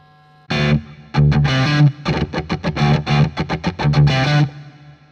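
Crunchy distorted electric guitar played with a humbucker pickup through a Two Notes ReVolt amp simulator pedal: a sustained chord, then a run of short rhythmic chugging strums and stabs, loud and close with no talk.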